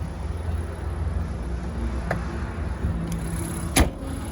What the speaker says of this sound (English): today we have a 2019 Honda Ridgeline RTL-E. And give it a listen, super smooth.